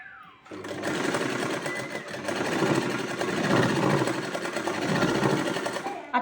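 A sewing machine stitches a straight seam down the fabric of a rabbit-style cap. The motor hums close and continuously for about six seconds with a steady needle rattle, and no one talks.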